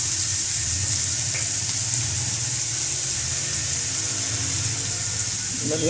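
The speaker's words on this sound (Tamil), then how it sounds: "இப்போ இது வந்து கொஞ்சம் நல்லா பொன்னீரமாக ஆகிற வர வதக்கணும்" Potatoes for aloo 65 sizzle steadily in hot oil as they are sautéed in a pan until golden, a constant close frying hiss throughout with faint scraping near the end.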